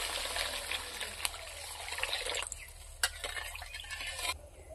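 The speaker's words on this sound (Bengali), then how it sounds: "এখন আমি দিয়ে দেবো জল।" Water trickles and splashes steadily into a pan of fried cumin, ginger, dried chilli and black pepper while a fish curry is cooked, pouring continuously with a few sharper splashes near the end.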